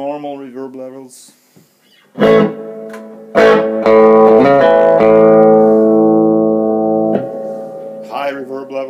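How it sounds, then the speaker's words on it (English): A VibroChamp Reverb guitar amp set to normal reverb rings out clean guitar notes and a sustained chord, the tails lingering before decaying, with brief talking before and after. "Soft reverb, normal reverb levels."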